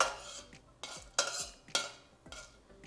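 Whole spices (cloves, cardamom, a small cinnamon stick and bay leaves) frying in hot coconut oil in a pan, heard as four distinct scraping stirs of a utensil against the pan over a faint sizzle, close by, with no talking.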